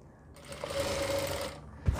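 A sewing machine stitches a reusable baby diaper in one short, steady, close whirring burst that ends abruptly with a clunk.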